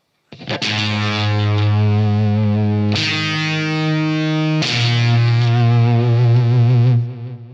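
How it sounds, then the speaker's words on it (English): An electric guitar through a heavy fuzz pedal plays three long, buzzing, saturated notes, each ringing out loud and sustained before stopping. "a, let's say, normal fuzz, which would sound this way"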